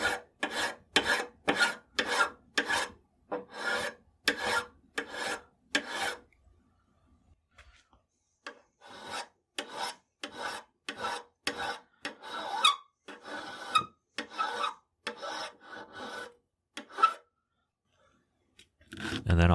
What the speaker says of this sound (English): There's more material to remove, so I'll start with the files.